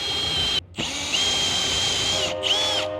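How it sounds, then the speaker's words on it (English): A power drill with a step bit whines steadily at high pitch as it bores out a hole, with two brief pauses where the motor stops and restarts. "We take this step bit, we drill and bore out the hole."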